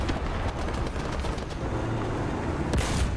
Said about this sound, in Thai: กูโดนยิงหลายด้านจังเลย